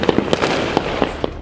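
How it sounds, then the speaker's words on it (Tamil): Firecrackers and fireworks go off outdoors during Diwali celebrations in Karur district, Tamil Nadu, several sharp bangs landing at irregular intervals over a continuous crackling background of more distant bursts. "பொதுமக்கள் உற்சாகமாக பட்டாசுகள் வெடித்து தீபாவளியை கொண்டாடினர்"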